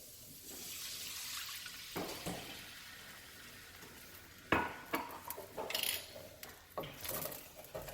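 Water swirled from emptied tomato cans splashes into a hot pan to deglaze it after cooking meatballs, starting as a steady wash of sizzle and hiss, then breaking into sharper bursts of bubbling, clinking and sputtering.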